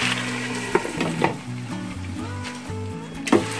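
Wild salmon steaks sizzle steadily in a hot pan, a close, continuous frying crackle broken by a few sharp utensil clicks and knocks.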